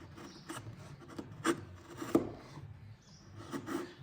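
A sharp chisel paring and hollowing the inner section of a wooden mitre joint for a door lining gives soft, scraping cuts with a few sharper knocks, close and moderately quiet, with no talking.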